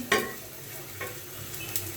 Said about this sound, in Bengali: মরিচটা সুন্দর করে ভাজা হোক।